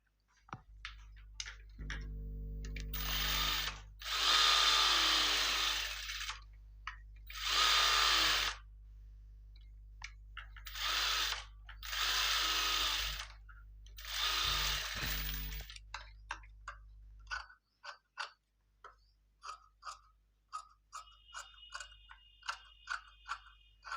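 A sewing machine stitches blouse fabric in several short runs of fast whirring, separated by pauses, then gives way to quieter clicks and handling sounds.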